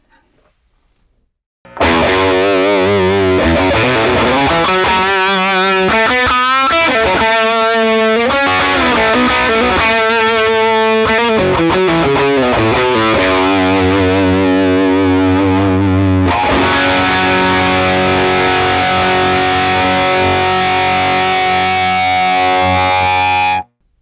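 Heavily distorted electric guitar through a SonicTone Royal Crown 30 (RC30) 30W British rock tube amp in hot mode, gritty sustained notes and bends, then thick chugging chords, loud and alone.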